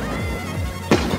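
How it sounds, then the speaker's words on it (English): Fireworks explode at an ice festival. One sharp, loud bang cracks near the end of a brief stretch of low background rumble. "these are the fireworks at an ice festival"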